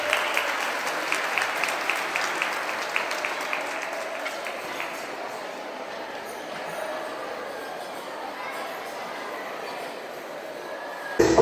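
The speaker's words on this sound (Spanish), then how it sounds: "Les damos un aplauso de bienvenida," Welcoming applause from an audience at a kindergarten community event in Xalapa, a soft, steady patter of many hands that thins gradually, with faint crowd murmur beneath.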